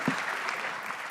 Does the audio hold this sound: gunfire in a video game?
no